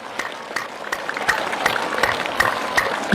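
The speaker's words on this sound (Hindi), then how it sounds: "हर ताली पहले वाले से ज्यादा तेज" A group claps in time during an energetic session, each clap louder than the one before. The claps are sharp, evenly spaced and get steadily louder across the stretch, with no talk over them.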